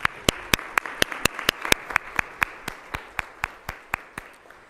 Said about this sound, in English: let's give a round of applause to all of those individuals and organizations.